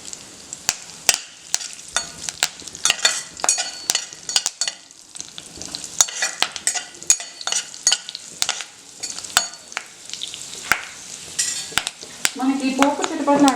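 Mustard seeds, cumin, dried red chillies and curry leaves crackle and sizzle in hot oil for a capsicum masala curry tempering, with sharp irregular pops, spoon stirring against the pan and a louder splutter at the end.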